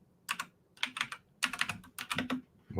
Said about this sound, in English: I'm typing extra slow because of my awesome tech skills